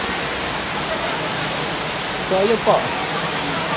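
Bantakay Falls in Quezon pours with a constant dense hiss of falling water that fills the air evenly, while a person speaks briefly over it.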